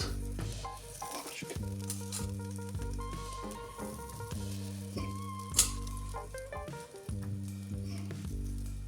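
Steady sizzling of pre-boiled jacket potatoes frying in a pan, continuous and close, with faint clinks and background music.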